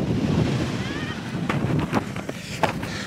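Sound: wind blowing at the beach

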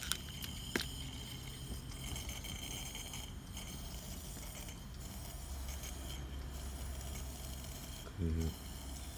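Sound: Coleman 288A lantern hissing air and fuel while burning mantle

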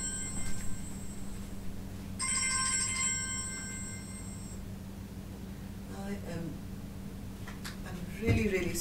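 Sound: mobile phone ringtone ringing

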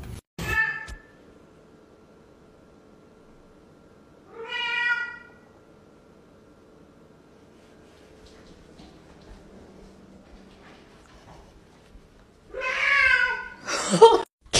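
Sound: cat meowing

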